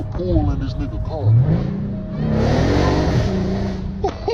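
A Dodge Hellcat accelerates hard, its engine note rising loud and close through a sustained pull, with someone talking over the start and end.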